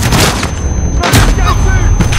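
A flash grenade goes off in a trench-warfare co-op video game, a loud, harsh burst with a second heavy boom about a second later over a continuous dense roar.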